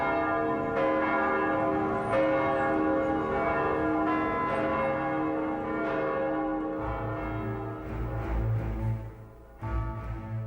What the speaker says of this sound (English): Every bell in Moscow's hundreds of churches rang out